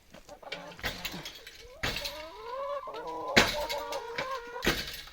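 Farmyard chickens and a rooster cluck and murmur at close range during feeding, a steady run of short calls with sharper squawks breaking in.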